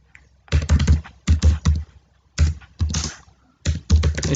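Typing on a computer keyboard while entering Excel data, several quick bursts of close, crisp key clicks separated by short pauses, alone with no talk.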